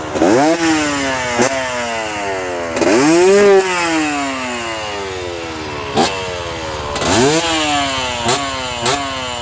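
Modified Kawasaki KT250 two-stroke motorcycle engine with a reworked transfer port and raised compression, revved hard in repeated rising and falling bursts, loud and close, with sharp blips between longer pulls and no talking.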